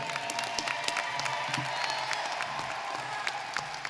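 Applause from a high school graduation audience in a hall, a steady wash of many hands clapping at moderate distance with scattered sharper claps and faint crowd murmur.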